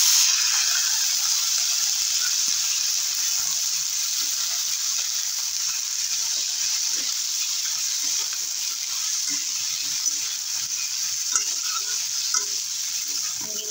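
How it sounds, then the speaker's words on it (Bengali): Drumstick pieces being sautéed in a wok in oil left over from frying cumin, a dense, even hiss of sizzling oil running unbroken with faint scraping and ticking underneath. "জিরে ভাজা তেল যাচ্ছিল, সেই তেলটা দিয়ে সজনেটা কষে নিচ্ছি"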